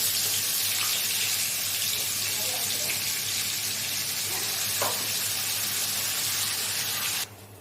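Green chilli, tomato, cumin and onion paste hits hot oil for a fish curry, giving a steady, moderately loud sizzle with faint spatters and a light stir, before the sound suddenly cuts quieter near the end.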